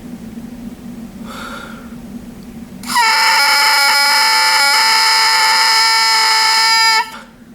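A single oboe reed squawks a loud, steady, buzzy crow lasting about four seconds, with a brief faint squeak just before it.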